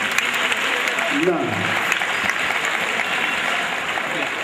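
An audience at a charity donation event in Vadodara claps steadily throughout, the applause continuing under a voice.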